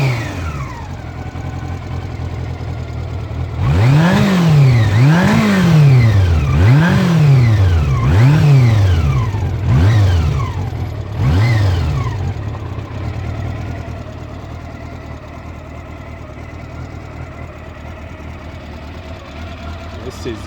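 A Honda CB400 Super Four motorcycle revs in a series of rising and falling throttle blips over a steady idle, loud and close, then settles back to idling.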